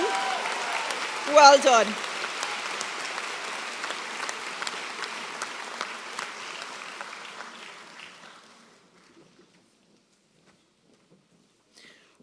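At a college graduation ceremony, a hall audience gives steady applause for Bachelor of Education graduates, a brief cheer near the start, then the clapping thins and fades out to near silence; a voice speaks briefly early on.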